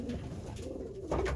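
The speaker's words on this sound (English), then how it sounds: "Another pigeon today I want to show off." A pigeon in a breeding loft coos softly nearby, a short low rolling coo followed by a slightly louder burst at the end, with faint background noise and no talk.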